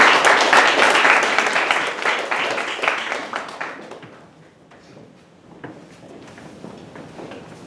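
An audience at a school English speech contest claps for students, a strong burst of applause that fades away by the midpoint, followed by quieter shuffling and stage noises.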